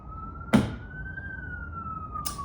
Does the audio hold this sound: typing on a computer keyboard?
no